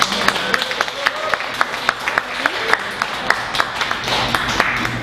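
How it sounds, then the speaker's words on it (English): Audience at an open mic night in a coffee shop claps and applauds steadily for about five seconds, a room of scattered hand claps with a few sharper claps standing out, with faint murmuring beneath. "y'all give a great round of applause"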